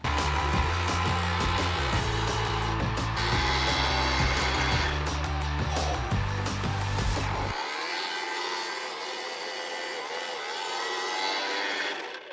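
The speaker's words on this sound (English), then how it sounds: "Ryobi 40 volt, brushless, 8-inch cordless auger." A Ryobi 40-volt brushless 8-inch cordless auger digs a post hole for an outdoor pergola. Its loud, steady motor whine holds with slight shifts in pitch under load, then drops to a lighter spin near the end.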